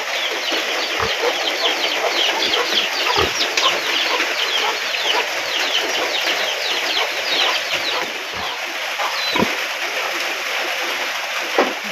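Chickens cluck continuously on a farm, dense overlapping clucks and chatter with occasional low thumps, fairly loud and close throughout.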